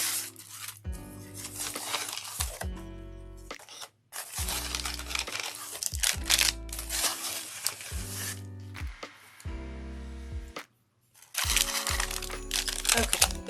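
A plastic poly mailer crinkles and crackles loudly as items are pulled out of it, in repeated rustling bursts separated by short pauses, close by and alone.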